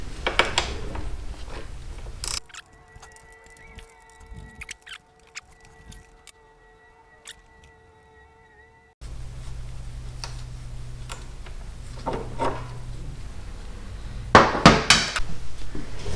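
Ratchet work loosening a nut on a 1983 Honda Shadow 750 motorcycle, with rapid clicking pawl ticks in bursts, a quiet stretch with faint tones in the middle, then louder close ratcheting near the end.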